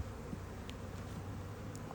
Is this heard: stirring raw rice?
no